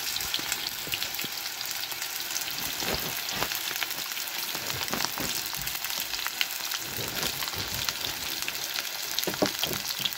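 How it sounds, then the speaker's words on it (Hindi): Potatoes with turmeric and salt frying in a pan, giving a steady close-up sizzle with crackles and occasional stirring scrapes throughout. "तो इधर आलू में हल्दी नमक डालकर फ्राई कर देती हूँ।"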